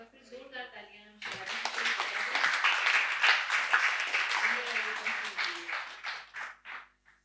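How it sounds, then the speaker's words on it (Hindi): An audience at a Hindi poetry recital breaks into loud, sustained applause right after a voice, the clapping swelling and then thinning into scattered claps before fading. "एक बार फिर जोरदार तालियां हम"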